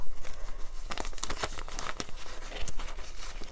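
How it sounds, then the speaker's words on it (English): Paper cash bills are handled and slid into a cash envelope, giving close, continuous crinkling and rustling with brief sharper crackles. "So I'm just going to add these bills in and then we will count everything up."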